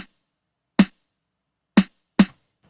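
Four sampled snare hits in Logic Pro X, each a short, crisp crack with a sharp attack and quick decay, spaced irregularly with silence between them and no other instruments.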